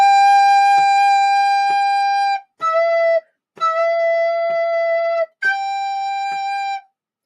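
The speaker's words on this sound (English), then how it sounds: "I'm just going to do it with my recorder so I can do an accurate tune of what's here." Recorder plays a short tune of separate, steady held notes, each stopped cleanly before the next, with brief gaps of silence between them; clear and close with no voice.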